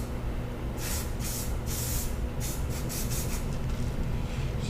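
Sealant sprayed from a can onto the inside lip of a garbage fitting during a replacement job comes in several short hissing bursts, close and fairly loud over a steady background rumble.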